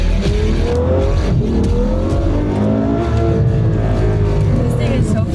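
A Ferrari V12 fitted with a roughly 2000 hp turbo kit accelerates hard, its engine note climbing steadily with a loud, sustained roar close by, with a voice faintly present under it.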